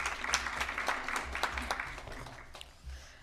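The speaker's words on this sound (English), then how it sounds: "so we can give you a round of applause for your work?" At a school board work session, a modest audience claps in scattered, uneven applause, with individual claps standing out, fading toward the end with a low rumble of room noise beneath.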